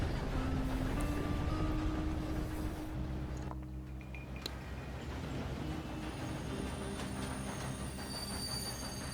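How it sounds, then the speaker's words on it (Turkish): A steam train running in the video game Red Dead Redemption 2, a continuous loud rumble of rolling wheels and rattling carriages with a squealing metallic tone, heard alone and close. "Tren, trende biz mi gidiyoruz?"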